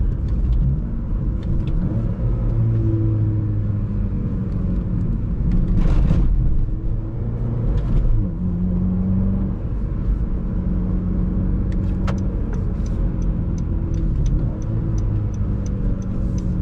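A car with a manual transmission cruises along a country road, its engine a steady low rumble heard from inside the cabin, with shifts in pitch as it changes gear and a few faint clicks.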